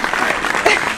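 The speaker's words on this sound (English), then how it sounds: "Can I get a round of applause?" A round of applause for the first anniversary of Rapid Eye Movement, a short, dense burst of clapping that fills the whole second.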